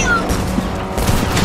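Gunfire in Fortnite Chapter 2 comes as a few muffled, somewhat distant shots and bursts within noisy game ambience, brief and irregular.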